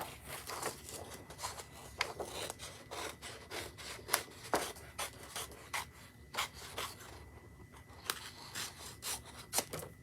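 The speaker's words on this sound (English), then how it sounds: "I'm going to go ahead and snip this around" Scissors snip around the edge of a handmade wedding card and matching envelope, giving a quiet, irregular run of short cutting and rubbing sounds close by, with no voices.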